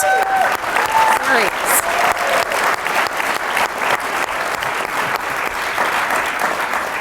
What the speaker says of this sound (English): can I have just a serious round of applause?